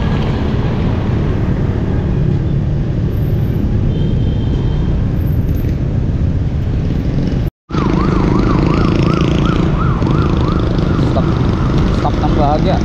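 An ambulance siren wailing in a rising and falling pattern as it passes on a busy road near Sukat Road, heard from a bicycle over loud wind and traffic noise.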